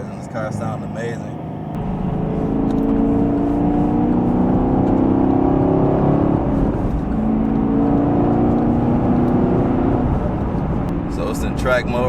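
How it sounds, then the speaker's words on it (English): Exhaust of a 2020 Camaro SS 1LE in track mode while driving, a loud steady engine drone that swells and holds through the clip, with brief talk at the start and end. "Backfires and this car sound amazing."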